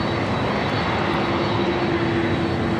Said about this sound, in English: Delta 767-400ER. This is Flight 939, taking off to JFK.